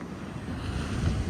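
Ocean waves on a windless day in Paphos, Cyprus wash and rumble in a low, continuous surge, with a breezy hiss over the top and no voices.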